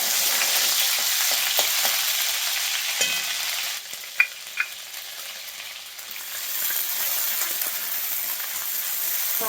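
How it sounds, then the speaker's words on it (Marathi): Chopped onion and coriander paste frying in hot oil, a steady broadband sizzle with a few faint clinks of a utensil partway through. "आता यामध्ये तेल गरम झाले की आपल्याला हे जो कांदा आणि कोथिंबीर आपण बारीक केली होती ते घालायचं"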